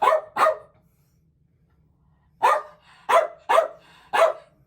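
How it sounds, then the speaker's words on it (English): A Pomeranian barking: two quick sharp yaps, a two-second pause, then four more high, close, loud barks in an uneven rhythm, with no voices. "being shouted at by a Pomeranian dog."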